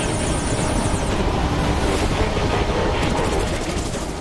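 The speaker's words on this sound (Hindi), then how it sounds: "यह है भारतीय वायुसेना के हेलीकॉप्टर्स जिनका कोई जोड़ नहीं, कोई तोड़ नहीं।" An Indian Air Force Apache helicopter flies past with a steady, loud rotor and turbine roar and broadband whine, continuous and fairly close throughout, with no voices.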